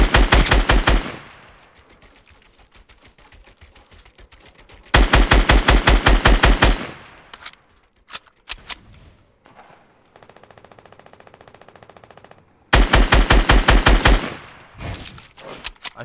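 Video game gunfire rattles in three loud bursts of rapid automatic shots, each around two seconds long, separated by quieter gaps with scattered single shots and faint background noise.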